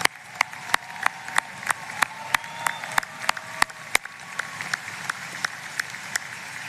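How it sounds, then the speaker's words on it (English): Scattered applause from a modest crowd at a university commencement, individual claps distinct and steady, sustained throughout at a moderate distance. "please stand so we can clap for you too"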